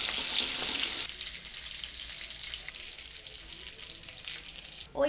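Green peas frying with chhana in hot oil for a Bengali nabaratna vegetable curry, a loud steady sizzle that drops to a softer crackle after a moment, with a brief stirring scrape near the end.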